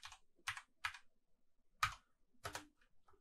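Typing code in RStudio on a computer keyboard, five quiet, separate keystroke clicks spread irregularly over a few seconds, close and isolated.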